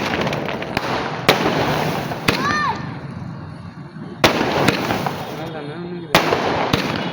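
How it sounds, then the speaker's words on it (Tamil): Fireworks bursting both low to the ground and high overhead: loud sharp cracks spaced a second or two apart, with a rising whistle and continuous crackle between them, and people talking beneath. "கீழே வெடிக்குது மேலே வெடிக்குது பாரு."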